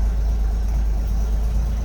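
A 1974 Toyota Land Cruiser FJ40 engine idles steadily, with a low, even rumble holding close and constant throughout, no voices over it.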